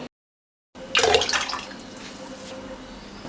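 Tap water gushes into a pot for a seafood rice broth, starting abruptly after a moment of silence, then settling into a steady, close running stream.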